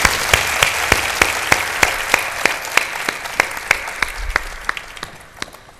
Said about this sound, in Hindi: उनका ताली बजा के भेजें।